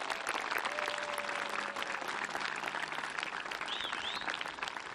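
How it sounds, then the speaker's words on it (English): Steady, dense applause from a large audience at a high school commencement fills the whole stretch, with a few faint tones and whistles rising above it. "They deserve a standing ovation from you. Give them your love and your applause"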